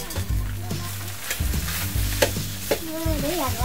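Seasoned cooked rice is stir-fried in a pan to make fried rice, giving a steady sizzle with scraping stirs throughout. A voice is briefly heard near the end.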